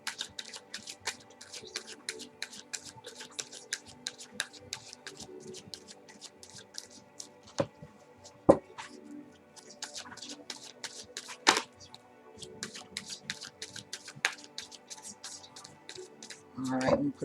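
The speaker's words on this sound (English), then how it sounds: "Shuffle." Tarot cards are shuffled by hand in a continuous rapid patter of soft, close riffling clicks, with a few sharper snaps along the way.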